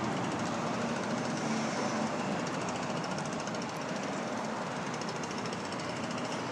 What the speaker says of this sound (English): That is a leaf blower employee.